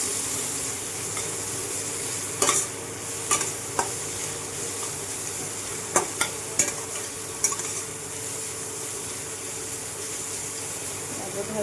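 Veg noodles frying in a pan, a continuous sizzle broken by repeated sharp scrapes and clacks of stirring that come every second or two, no talking.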